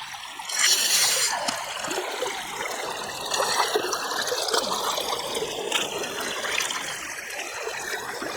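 Water rushes through a river sluice box used for gold prospecting, a steady close trickling and splashing flow with brief louder surges.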